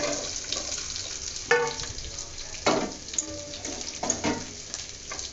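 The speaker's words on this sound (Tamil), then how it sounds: "3 பெரிய வெங்காயம் ஸ்லைஸாக நறுக்கி வச்சுருக்கேன்," Sliced large onions frying in hot oil while making noodles, a steady crackling sizzle with a few sharper bursts as they hit the pan and get stirred, close and fairly quiet, no talking.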